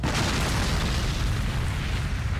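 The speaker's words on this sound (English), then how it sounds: "Did he just eat the explosion?" Explosion in the Resident Evil 4 video game, a sustained loud rumbling boom with heavy low-end roar that holds steady for a couple of seconds without voices.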